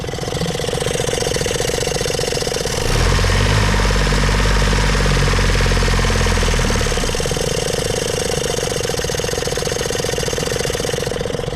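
An engine runs steadily after a fuel pump repair, its mid-pitched rumble swelling louder and rougher for a few seconds in the middle before settling back to an even idle, with no talking.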